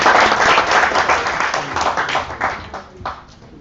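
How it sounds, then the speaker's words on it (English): A live audience claps to welcome a speaker, a loud, dense burst of many hands that thins out and trails into scattered individual claps near the end. "can we have one more time welcome with thunderous applause?"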